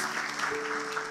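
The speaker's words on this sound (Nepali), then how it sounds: "एकपल्ट ताली बजाउनको प्रभुलाई धन्यवाद दिनेछौँ" A congregation at a Nepali church service claps together in praise, a dense, steady wash of many hands sustained across the moment, with a faint voice or tone underneath.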